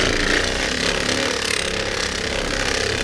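A power buffer fitted with a brand-new pad runs against a sanded, cleaned motorcycle fuel tank on a 1993 Yamaha FZR under restoration, giving a steady, loud motor whine and rough grinding hum that holds constant throughout.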